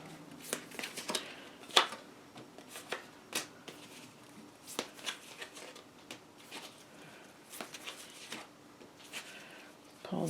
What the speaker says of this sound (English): We're going to put them around, shuffle them together.